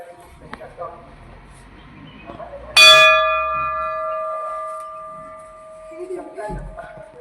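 A temple bell struck once, ringing out loud and close with a long, slowly fading metallic tone over quiet background murmur and faint voices.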